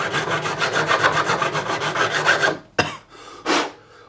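A metal file is drawn across the frets of a Jim Harley GJA ED4C electro-acoustic guitar to remove burrs. A rapid series of rhythmic rasping strokes runs close and loud, then gives way to a few separate scrapes and a knock.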